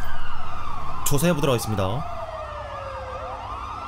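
An ambulance siren in GTA V wails close and loud with a fast warbling pulse, then drifts into a slower up-and-down wail, while someone speaks Korean over it.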